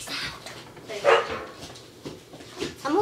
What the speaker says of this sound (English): She's done barking because of the cheese.